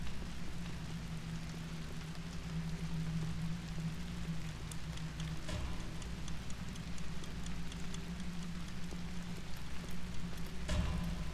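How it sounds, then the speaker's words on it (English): Steady rain pours in a video game, a dense constant hiss over a low rumble, with a couple of louder knocks. "Well, it's rainy now."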